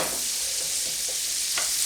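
Leeks sweat in butter and oil in a pan for a smoked haddock risotto, giving a steady, close sizzle with a few faint stirring scrapes on top.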